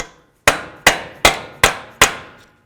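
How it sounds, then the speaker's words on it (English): Five sharp metallic hammer blows on a punch, driven into the center of a bolt on a 2008-16 Chrysler Town & Country front strut assembly, evenly spaced about a beat apart, close and loud, each ringing briefly. "Now you need a punch and your hammer."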